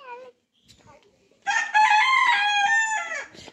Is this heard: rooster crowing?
yes